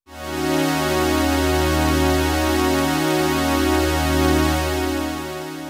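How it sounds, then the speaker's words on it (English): A bright sawtooth wave from the Arturia Pigments synth, stacked in unison with slight detune and full stereo spread, holds one sustained buzzy tone with gentle beating, loud and close with no voices. "So that gives us a nice bright sawtooth wave"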